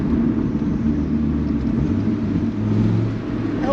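A deep, steady 2000 Dodge Viper RT/10 engine rumble drones continuously from inside the car in fourth gear at 45 mph, low and loud, with slight shifts in pitch.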